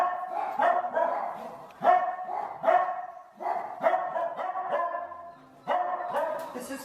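A dog barks repeatedly in short, loud bursts at an irregular rhythm, close by, with occasional yips mixed in and no clear talking.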